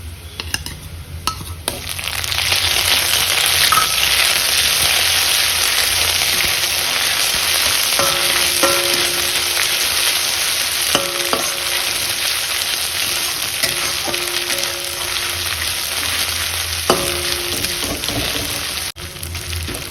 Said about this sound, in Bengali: এরপর এর মধ্যে দিয়ে দেবো আদা রসুন বাটা